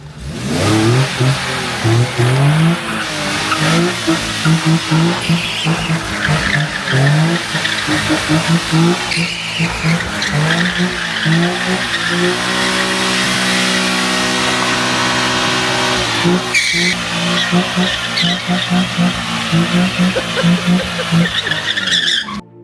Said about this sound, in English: It sounds quite good as well for a standard exhaust.